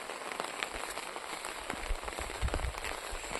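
Light, steady rain patters on surfaces near rice fields, a soft continuous hiss dotted with faint drips.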